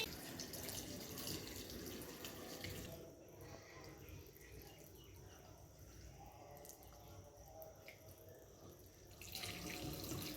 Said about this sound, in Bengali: কিরকম জল পড়ছে?